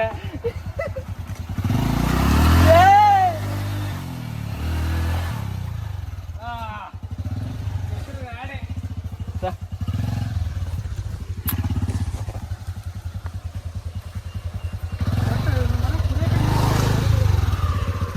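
A motorcycle engine revs and labors as the bike is pushed through muddy ground, loud and close, rising and falling in bursts, with people talking over it much of the time.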